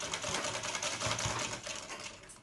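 A sewing machine stitches fall onto a saree being turned into a long dress, running in a fast, continuous close-up clatter with steady rhythmic pulses.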